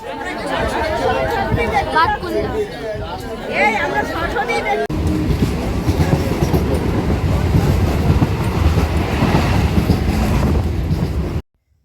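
Crowd chatter and voices inside a moving train, with the steady rumble and rattle of the carriages running underneath.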